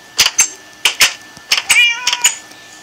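A cat in the Alex's World video game meows in a quick run of short, bright cries, about six or seven close calls with brief gaps between them.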